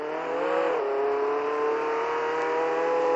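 Video game car from Roblox Jailbreak driving steadily, a smooth synthetic engine drone that dips in pitch early on, then holds a constant loud hum with no voices.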